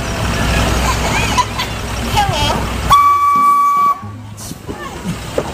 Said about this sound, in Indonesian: Di sini ada kereta Thomas.